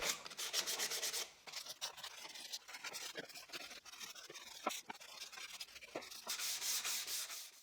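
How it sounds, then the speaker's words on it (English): Wood edges sanded by hand with 220 grit sandpaper: close, quiet rubbing strokes in uneven back-and-forth bursts, some longer, some short, with no talk. "I'll sand the edges with 220 grit sandpaper."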